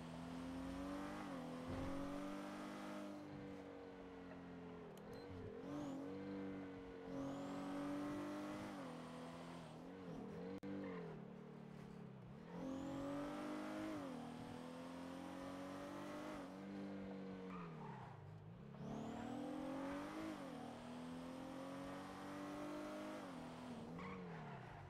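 A car engine revs hard in repeated rising and falling surges, with tire squeal and skidding between bursts, loud and close throughout with no talk.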